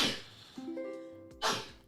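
A short burst near the start and a sharp sneeze-like blast near the end, with a faint steady tone between them.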